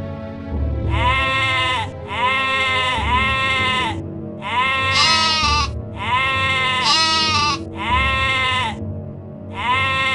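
A ewe and lamb bleat in an animated cartoon, loud repeated drawn-out bleats in a steady rhythm, some overlapping, over a continuous low background.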